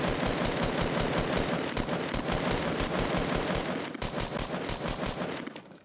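Sustained automatic gunfire laying cover fire in the Fortnite video game, rapid evenly spaced loud shots in long bursts, briefly pausing before resuming and then stopping.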